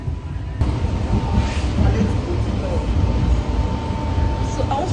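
The interior of a moving Lagos Blue Line metro train gives a loud steady rumble with a faint sustained whine, with murmuring voices among the passengers.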